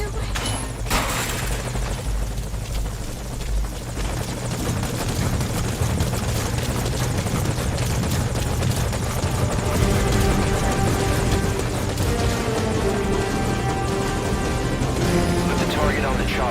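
Helicopter in the Metal Gear Solid 2 video game, a steady low rotor drone running throughout under game music and radio-style dialogue.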